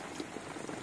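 Rice boils in a pot at a mountain campsite on Papandayan, Garut, making a soft, continuous bubbling and burbling hiss that is faint and close, with no voices.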